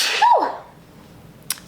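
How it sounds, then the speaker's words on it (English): A single sharp sneeze bursts out close by, its rising-then-falling snap ending quickly, followed by near silence and a faint click. "Sorry, I had to sneeze."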